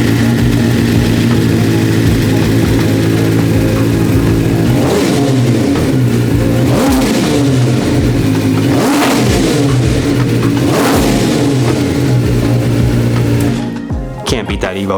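A BMW M1000RR superbike fitted with an Evo exhaust revs hard, loud and close, with several sharp throttle blips over a steady roar before cutting off, someone talking over it.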